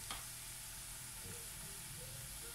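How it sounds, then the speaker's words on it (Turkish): Dried eggplant mixture is stirred in a pan, giving a soft, steady sizzle and faint scraping of the spoon, quiet and continuous with no talking. "bunlarla birlikte de şöyle bir karıştıralım"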